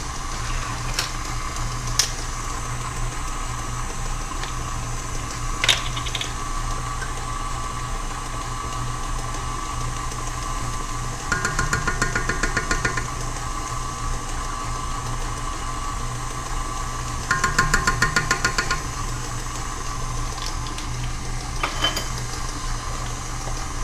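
An electric mixer beats French silk pie filling of sugar, butter and vanilla, giving a steady, close motor whir that runs throughout with a few brief louder bursts and clinks.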